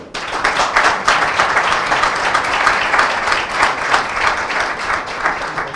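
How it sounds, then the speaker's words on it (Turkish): Sustained applause from a festival audience, dense and loud throughout, with no one speaking over it. "Bunun için bir alkış istiyorum"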